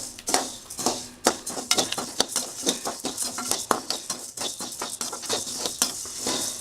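Coriander seeds dry-roasting in a kadai rattle and scrape in quick, uneven bursts as they are stirred against the metal pan, close and fairly loud, with no talking.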